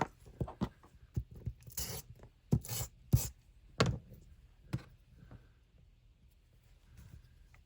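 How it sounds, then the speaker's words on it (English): Paper being crumpled for a Halloween-themed junk journal card wallet folio, a series of close, crisp crinkling bursts and small rustles and taps, fairly quiet, with no voice. "little crumple."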